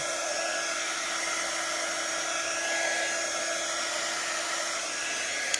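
Heat tool that blows warm air drying paint on a hand-painted sign, a constant loud whirring blower hum with a steady whine, heard close and alone throughout.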